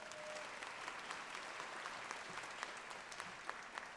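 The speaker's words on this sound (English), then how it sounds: "you can give him a round of applause for that" Audience applause at the 2022 NYSID gala award presentation: dense, steady clapping from a large crowd fills the whole stretch at even loudness, with a few sharper individual claps standing out.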